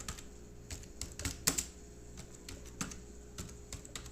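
Fingers tap out a name on a computer keyboard, a run of light, uneven key clicks with short pauses, quiet and close, with a faint steady hum underneath.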